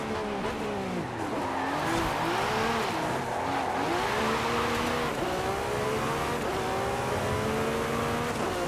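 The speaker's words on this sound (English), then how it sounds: "That was the AMG again, going through" A Mercedes-AMG car drives past on a racing game track, its engine rising and falling through repeated revs and gear changes, with tire squeal, loud and continuous.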